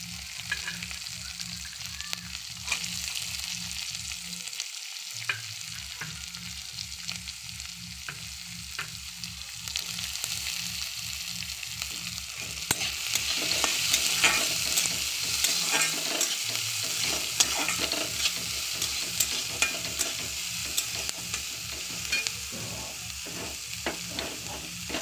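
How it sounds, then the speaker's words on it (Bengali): Chopped onions frying in hot oil for a masala dosa filling, a continuous loud sizzle with a rapid, regular scraping rhythm of stirring, pausing briefly twice before resuming. "দুটো পেঁয়াজ কুচি দিয়ে দিলাম"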